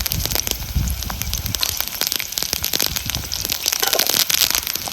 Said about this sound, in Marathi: आता ह्याच्यामध्ये आपल्याला ही हिरवी मिरची आहे ना, ही टाकायची.